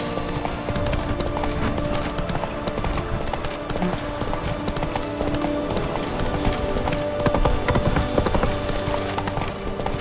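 Horse hooves clip-clopping steadily as a rider travels in the video game The Witcher 3, a continuous even trotting rhythm of hoofbeats over a busy game soundscape with background music and ambience.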